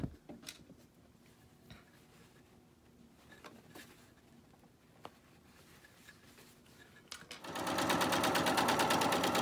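A sewing machine top stitching a wire channel on a homemade fabric face mask: quiet handling rustles and faint clicks, then the motor kicks in with a steady, loud, fast needle rattle that runs to the end.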